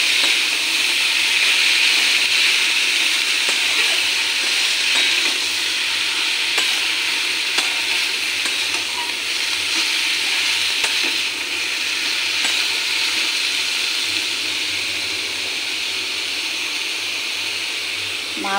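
Cabbage and rohu fish-head ghonto frying in a pan while being stirred: a steady, close, loud sizzle with a faint scrape of the spoon now and then, continuous throughout.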